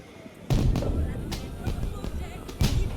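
Daytime fireworks in the video game Assassin's Creed Unity go off as a few sharp bangs and thuds in a loud, dense, crackling scene with a busy backdrop.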